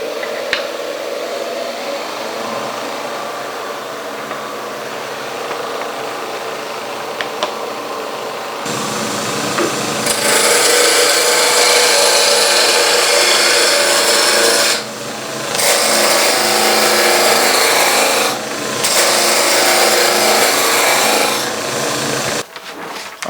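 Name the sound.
wood turning on a lathe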